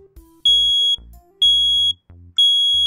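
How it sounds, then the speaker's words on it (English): A household smoke alarm sounds when its test button is pressed, giving three loud, shrill piercing beeps about a second apart, alone with no talk. "an adult can push the test button on a smoke alarm to hear the drill"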